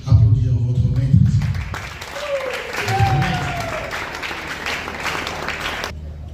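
Artists in an audience at the official launch of Victoria, an NGO, applaud steadily for several seconds after a voice and over a low murmur of chatter, with a few higher voices calling out.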